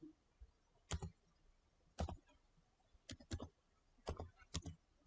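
Keys tapped on a computer keyboard in a few short clustered bursts of clicks, fairly quiet and close, with gaps of near silence between them and no talking.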